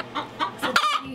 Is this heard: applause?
no